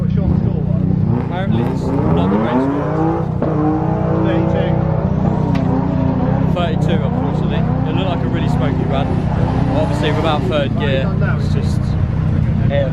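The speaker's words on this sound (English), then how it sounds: "The car's still running, and that's third gear." A drift car engine runs loudly and steadily in third gear nearby at a British drift championship, a constant droning hum underneath overlapping conversation.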